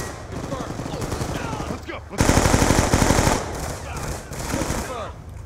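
Automatic AN-94 rifle fire in the shooter game Black Ops 2, steady rapid bursts running almost throughout, loudest in a dense stretch near the middle, layered with other game gunfire and effects.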